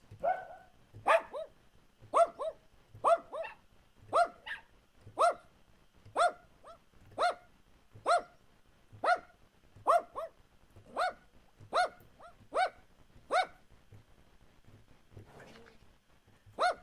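A dog barking steadily, about a dozen sharp, evenly spaced barks, close and loud, then trailing off near the end.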